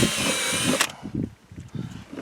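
A power drill whines loudly as it bores a hole for mounting a Kemimoto fender flare on a Polaris RZR KRX, running for under a second before cutting off, followed by quieter clicks and handling sounds.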